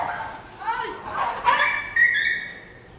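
Dogs in a street in Karşıyaka, İzmir, giving short yips and whimpering barks close by, rising in pitch over a few seconds with a faint background hum.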